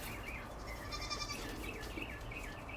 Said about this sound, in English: You might hear Miss Pearl trying to get in right now